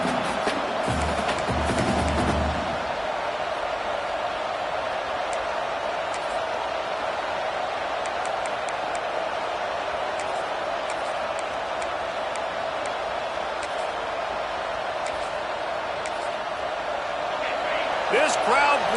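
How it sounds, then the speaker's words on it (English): A stadium crowd at an Indiana at Michigan college football game roars in a steady, sustained wash of noise, with a brief burst of louder activity at the start and faint scattered sharp sounds throughout. "This crowd bringing the energy and noise early."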